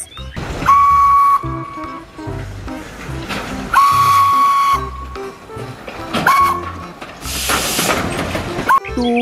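A toy Thomas the Tank Engine train's high steam whistle toots several times among clattering mechanical noise, with a voice heard between the blasts.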